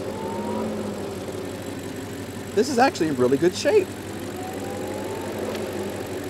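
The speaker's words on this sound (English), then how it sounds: "so I'm not gonna let the engine run for too long at all" A BMW 750Li's engine idles with a steady low hum and whirr, close and constant, while someone speaks briefly over it midway.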